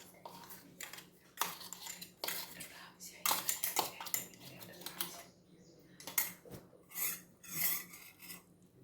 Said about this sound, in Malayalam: കപ്പലണ്ടി റെഡി ആയിട്ടുണ്ട് അതുകൂടി ഇതിലോട്ട് ഇടാം